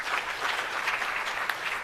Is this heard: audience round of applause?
yes